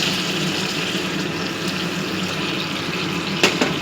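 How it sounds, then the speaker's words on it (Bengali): Water pours steadily from a bowl into a pot holding kofta curry, a continuous close splashing flow with a couple of brief clinks near the end. "এবার আমি যেটাতে দই নিয়েছিলাম সেই বাটিতে 1 বাটি জল দিয়েছি।"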